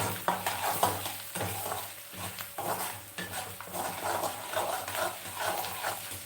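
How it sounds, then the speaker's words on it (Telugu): Rice rava with asafoetida being stirred and fried in a pan, a close sizzling hiss broken by rhythmic scraping strokes of the spoon, steady and moderately loud, with no talking. "ఇది బాగా వేయిస్తాం ఇప్పుడు ఇందులో ఇంగు వేస్తాం"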